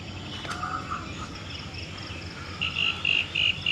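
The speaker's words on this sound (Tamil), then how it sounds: "சிலுவண்டு, சிலந்தி எல்லாம் கத்துது" Night insects such as crickets and cicadas chirp steadily at an outdoor light-show park, with a louder, pulsing run of shrill chirps near the end and faint frog-like croaks earlier.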